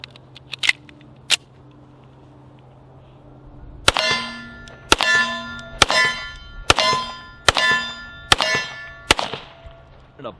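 A Remington R1 Enhanced pistol with a threaded barrel and silencer fires a string of reloaded rounds outdoors: about seven sharp, ringing reports spaced roughly a second apart, with metallic clinks before the string.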